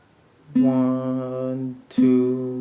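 Guitar plays two sustained notes of a melody, the first ringing about a second and a half before a second clear pluck, close and alone.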